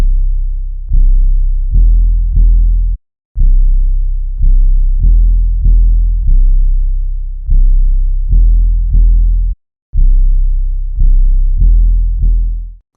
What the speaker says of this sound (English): And then I used the Soho 2 808 from my stash kit.